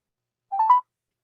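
A phone placing a call to a contact whose phone is dead, giving a short electronic dialing tone of about a third of a second, a couple of pitched beeps heard alone and fairly clear.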